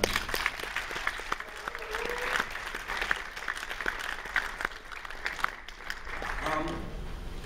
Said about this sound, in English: So round of applause for Bonnie